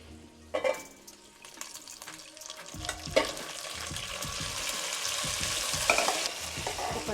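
Cooked lentils are stirred into a spice tempering of green chillies, curry leaves and black pepper in a pan. A few clanks and scrapes lead into a growing, continuous sizzle, and stirring sounds run through it without speech.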